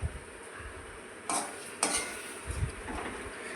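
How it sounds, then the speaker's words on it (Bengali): Cooked taro greens scraped from a pan onto a plate, a few metal clinks and scrapes of a spoon against cookware over a soft background hiss, heard alone. "আমি থালার মধ্যে নামিয়ে নিচ্ছি।"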